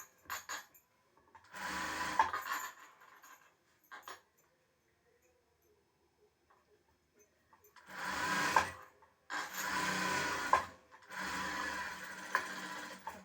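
A sewing machine stitches the band of a blouse in several loud bursts of about two seconds each, with a long quiet pause between them while the fabric is handled.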